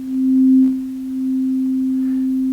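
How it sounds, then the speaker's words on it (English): A pure sine tone from a Bela wavetable oscillator hums at one steady pitch throughout, swelling slightly louder early on, dipping, then holding even, with a faint brief click near the start. "And here we see our sine wave."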